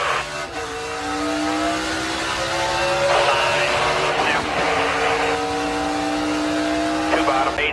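NASCAR stock cars roar past during a stage 2 race, engines rising in pitch as they accelerate in a sustained, loud drone, with a commentator talking over the noise.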